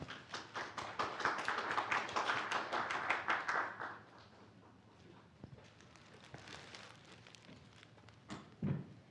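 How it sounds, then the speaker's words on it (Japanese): Applause at a football club press conference marking FC Gifu player Yosuke Kashiwagi's retirement: dense clapping from a room of attendees for several seconds, then thinning to a few scattered claps, fading out with a brief low thump near the end. "それでは高萩選手に大きな拍手をお願いいたします。"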